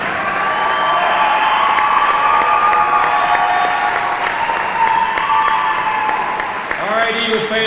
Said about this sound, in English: one more big round of applause for these 2017 boys and girls basketball seniors